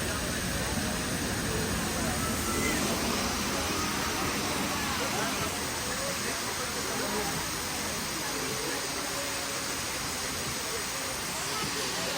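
Steady, dense roar of a waterfall in Antalya, a broad continuous rush of falling water that stays even and fairly loud throughout, with no distinct voices standing out.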